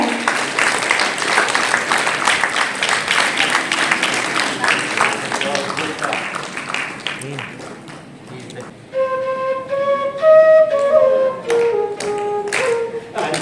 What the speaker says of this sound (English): कार्यक्रम के लिए तालियों का साउंड होना बहुत जरूरी है